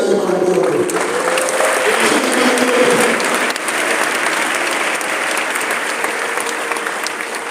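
A church congregation bursts into loud, sustained applause, with voices and cheers mixed in early and the clapping carrying on steadily to the end.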